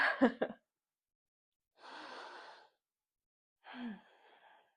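Slow exhalations during a steady full-body yoga flow, three separate breathy bursts of about a second each with short silences between, close and soft, no talking.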